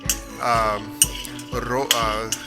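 A utensil stirs peanuts roasting in a pan, producing a few scraping sweeps and sharp clinks against the metal, close-up with brief pauses between strokes.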